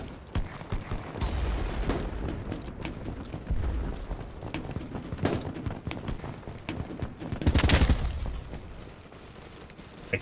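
Gunfire in a first-person shooter video game, with bursts of shots scattered over a busy mix of in-game noise, including a loud, dense volley near the end.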